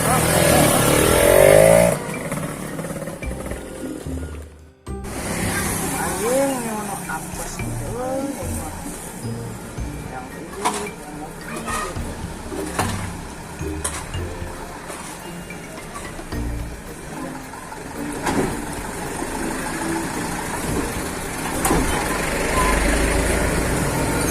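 A motorcycle engine revs and rumbles, then pulls away, while people talk nearby over the engine noise.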